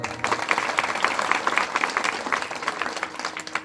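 Audience applause at a Marathi kirtan, a dense wash of many hands clapping steadily, fairly loud and close, with no voices over it.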